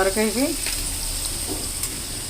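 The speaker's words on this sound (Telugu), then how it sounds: "చూడండి ఉల్లిపాయలు వేగినాయి" Onions fry in a pan for a tiger prawn curry, producing a steady, close sizzle, with a brief voice at the start.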